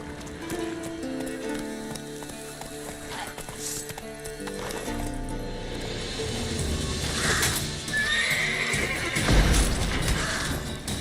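Geralt's horse Roach galloping in The Witcher 3: steady clip-clop hoofbeats with a whinny, set against a running game score and ambient noise, with a short shout over them.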